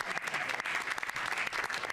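Dense applause from a crowd, many hands clapping steadily and loudly throughout, with no pause.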